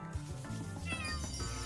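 A cat in the Chained Echoes video game gives a short meow, heard close and clear over steady game music.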